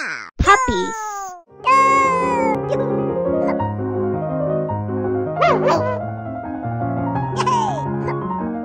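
A few high, squeaky yips from a small puppy toy, followed by a bright electronic melody playing steadily, with more short yelps popping in over it.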